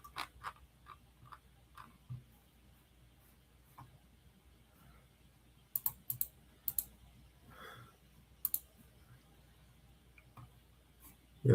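Mouse clicks while adjusting settings in futures day-trading software, a few sparse, quiet single clicks scattered between stretches of near silence.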